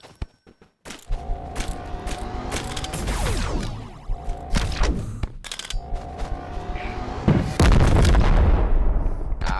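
RPG rockets firing and exploding in the VR game Animal Company, several heavy booms and rumbling blasts in quick succession with mechanical clatter, loud and close, no speech.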